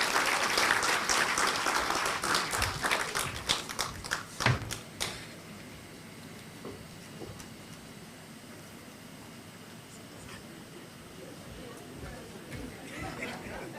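Audience at the launch of the KEMSA Kisumu Regional Distribution Centre applauding the Cabinet Secretary, with a burst of clapping that is dense at first and thins into scattered claps over a low murmur of chatter.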